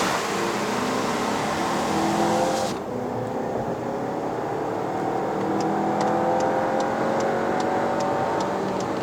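A 2021 VW Tiguan Allspace 2.0TSI R-Line accelerates at 58% throttle in Sport mode on a Malaysian road, heard from inside as a steady engine drone and road roar with a brief dip partway through.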